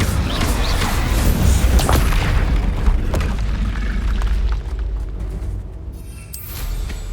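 An Incendio fire spell blast in Hogwarts Legacy: a loud, dense roaring burst of fire that fills the opening seconds and then thins into a rumbling tail with softer crackles.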